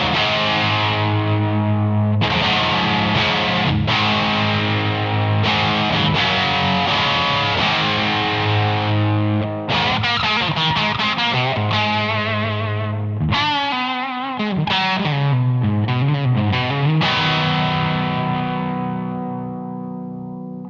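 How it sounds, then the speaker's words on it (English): Electric guitar played through a Vox amp model on channel A of a SIMPLIFIER X, heavily distorted chords and riffs, loud and sustained with ringing notes and bends, no talking. "With the Vox, you will see that it's a little hotter and more aggressive."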